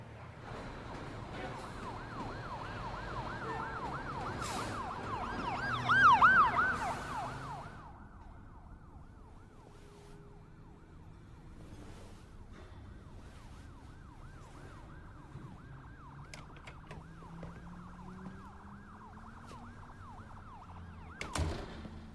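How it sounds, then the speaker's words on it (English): A wailing emergency siren sounds loudly over New York City traffic, then fades away, leaving a low hum of passing cars and street noise. "Sirens. Car horns. It's so fucking noisy!"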